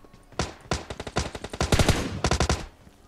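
Automatic gunfire rattles out in PUBG Mobile on the Sanhok map, with several loud, close bursts of rapid shots separated by short pauses.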